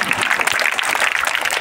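A crowd at a school kit-distribution function claps loudly and steadily to welcome guests onto the stage, dense and close with no pause.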